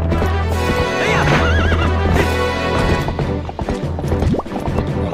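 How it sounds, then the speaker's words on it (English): A horse in the video game Zelda: Twilight Princess gives loud, wavering neighs over steady galloping hoofbeats, set against continuous game music and effects. "Not with this horse."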